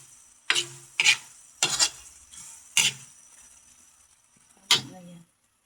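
Corned beef stirred and fried in an oily pan: five sharp scraping strokes of a utensil against the pan over a soft steady sizzle, fairly close, with no talk.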